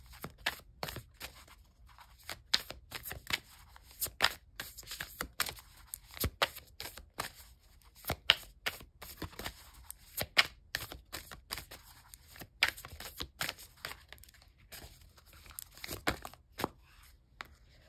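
Tarot cards are shuffled by hand in a quiet room, a long run of soft irregular riffles, slaps and papery snaps, close and fairly faint with no talking.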